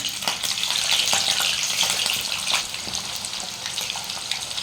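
Ingredients frying in a pan for a fish chutney give off a steady, close bright sizzle with scattered small pops and crackles throughout.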